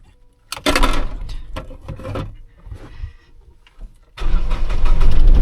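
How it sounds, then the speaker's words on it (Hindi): Mahindra Bolero pickup engine being started: a few cranking and rattling bursts, a pause, then the engine catches and settles into a loud, steady idle close by. "सो अब स्टार्ट कर लेते हैं गाड़ी।"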